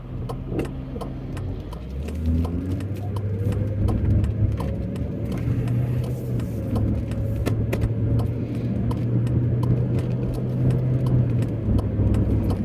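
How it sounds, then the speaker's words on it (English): A 1997 Lincoln Mark VIII LSC pulls out into an intersection, its engine rising into a steady, fairly loud mid-pitched hum from inside the car while other traffic passes, with no talking. "So pull out into the intersection and wait for these cars to clear."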